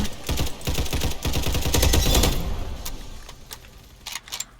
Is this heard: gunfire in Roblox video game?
yes